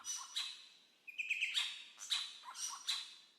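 A golden bowerbird calls in an Australian forest: a series of bright, high chirps and short whistled notes in irregular bursts, moderately near and alone, with no other sound.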